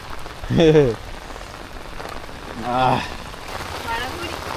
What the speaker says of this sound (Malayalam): മഴ കൂടി മഴ കൂടി